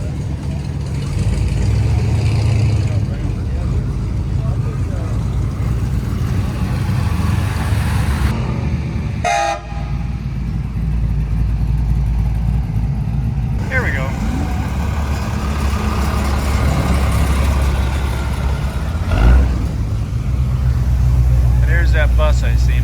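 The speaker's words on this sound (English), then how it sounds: "A couple of Beetles, old bus." Old Volkswagen Beetles and an old bus roll past at a classic car show, a steady engine rumble and road noise that swells as they go by, with outdoor crowd noise around.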